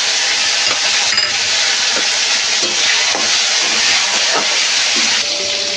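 Chopped tomatoes hit a hot pan already tempered with panch phoron, giving a loud, steady, hissing sizzle that runs unbroken throughout, with faint spatter crackles inside it.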